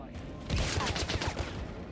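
Gunfire in the James Bond 007 video game: a rapid burst of shots rattles for about a second at close range, then the noise fades back.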